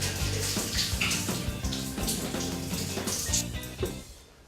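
Shower water runs continuously and fairly loudly, a dense splashing stream with rhythmic spatter and gurgle throughout.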